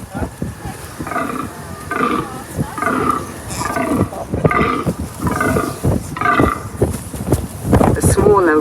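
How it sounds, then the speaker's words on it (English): Fallow deer rutting calls in the New Forest, a series of deep, rhythmic guttural groans repeating about once a second, loud and close, with a voice talking over them. "The fallow deer has wide spread out antlers and sounds like this."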